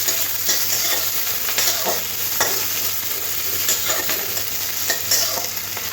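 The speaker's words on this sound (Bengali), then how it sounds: "একটু হালকা করে ভাজতে হবে তেলের মধ্যে দিয়ে।" Onions and three green chilies fry lightly in oil for a prawn, ridge gourd and potato curry, with a constant close sizzle and soft, regular stirring scrapes over a faint low hum.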